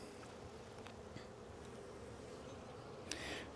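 Honeybees hum during the first inspection of a strong hive in March. The buzzing is faint and continuous, with a brief nearer buzz passing close toward the end, and no voices.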